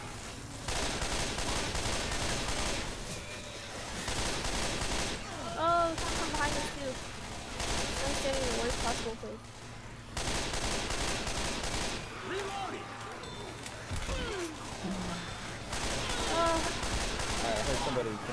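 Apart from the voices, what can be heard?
gunfire in a zombie video game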